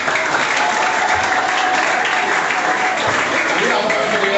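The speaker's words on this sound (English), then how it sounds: "Clap for him once again." Audience applause at a school debate competition between two colleges, steady dense clapping filling the whole stretch, loud and continuous with crowd noise.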